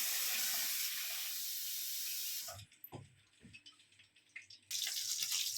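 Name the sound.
water for soaking pancit noodles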